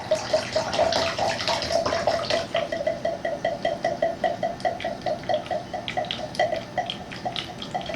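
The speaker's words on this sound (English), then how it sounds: "Now, we're going to take some of that water and pour it out" Water pours steadily from a laboratory flask during a soil specific gravity test, gurgling in a rapid, glugging rhythm, close and moderately loud with no voices.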